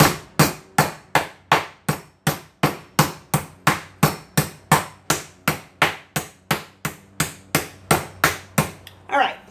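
Chicken for a simple dinner is pounded flat on a board, with about two dozen loud, evenly spaced thuds in a steady rhythm, close up, and no talking over them.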